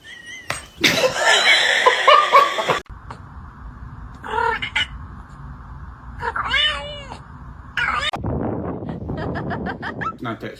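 A cat meows repeatedly in loud, drawn-out cries with a few caterwauling wails, alternating with bursts of laughter and lively background noise.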